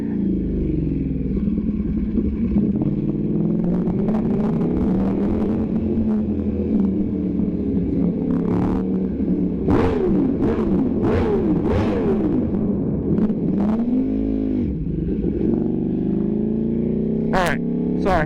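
Ducati V4 Streetfighter motorcycle engine rumbling and revving inside a tunnel, with rising and falling throttle blips echoing loudly and continuously, a person talking over it at times.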